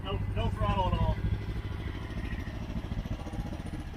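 Motorcycle engine braking downhill with a stock clutch and no throttle gives a steady low engine drone that runs the whole time, while someone talks over it at the start.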